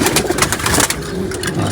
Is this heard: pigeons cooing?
yes